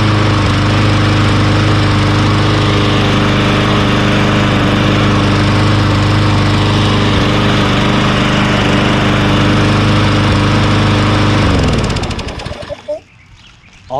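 Troy-Bilt 21-inch self-propelled lawn mower with a Briggs & Stratton Quantum 190cc engine and auto choke runs loud and steady close by, then cuts off near the end and sputters to a stop.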